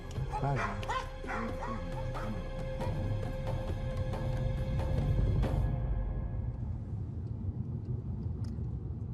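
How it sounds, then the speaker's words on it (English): Dogs barking repeatedly in quick bursts at a checkpoint while a car is searched, with yips and whimpers over a low rumble before the barking stops and only the rumble remains. "You can see they're searching a car with dogs over there."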